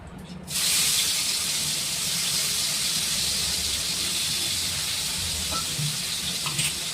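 Rohu fish hitting hot oil in a pan sets off a sudden loud hiss that settles into a steady, close sizzle of frying, holding on without a break and with no talk over it.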